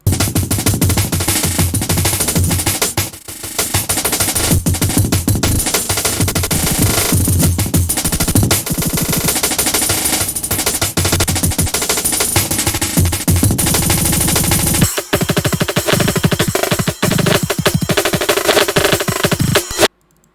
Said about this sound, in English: It's a decent break, I'd say.